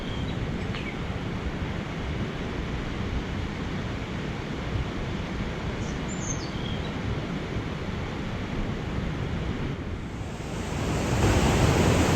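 Ocean surf at Delicate Knobby Beach, a steady loud wash of breaking waves with wind gusting across the microphone, growing stronger toward the end.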